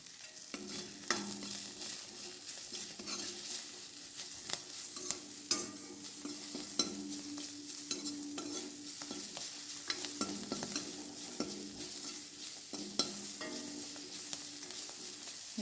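A frying side dish of nelabasale greens being stirred and mixed in a pan: a steady sizzle under repeated scraping strokes and soft knocks of a spoon against the pan, close and alone without talk.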